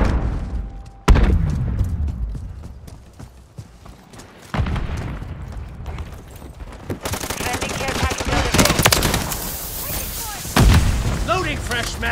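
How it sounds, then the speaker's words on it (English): Stun grenade going off in a video game: several sharp booming blasts and thuds among rattling gunfire-like bursts, loud and close, with a voice shouting over the action. "Stun grenade!"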